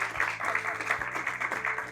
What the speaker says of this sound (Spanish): le pido un fuerte aplauso, por favor